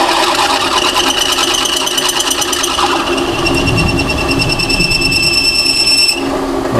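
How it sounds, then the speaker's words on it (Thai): A 550 W drill press boring a 12 mm hole through steel: a loud, close, continuous metallic whine and grinding that shifts in pitch partway through and then eases off near the end as the bit breaks through. "เจาะเหล็กนะครับตรงนี้เจาะ12มิลนะครับ"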